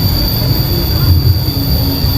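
A train crosses the Cirahong railway bridge with a loud, continuous rolling rumble and steady wheel noise that fill the whole stretch, close by and unbroken, with no voices.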